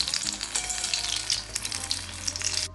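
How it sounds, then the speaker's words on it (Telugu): Poornam boorelu, stuffed dumplings, fry in hot oil with a dense, steady sizzle and crackle close by. The sizzling stays loud throughout and stops abruptly near the end, with no talking. "ఇప్పుడు గోల్డెన్ బ్రౌన్ కలర్లో వేగాయి."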